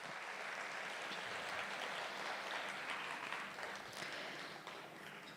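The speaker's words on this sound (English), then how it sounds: "Can we please give her a round of applause again?" Sustained, dense audience applause fills the hall after a Bharatanatyam arangetram Tillana dance performance, steady and fairly loud throughout before easing slightly at the end.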